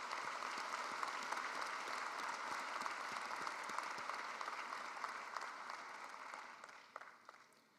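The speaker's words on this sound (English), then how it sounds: "Let's have a round of applause for all of these individuals." Sustained applause from a large commencement audience fills the hall, steady and dense for several seconds before tapering off into scattered claps at the end.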